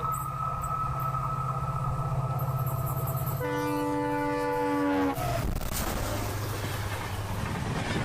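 A big diesel locomotive leads a train round a curve, its horn sounding in long steady tones over a constant engine rumble before the wagons roll by with broadband rail noise.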